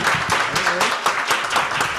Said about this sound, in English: let's give a round of applause for our new member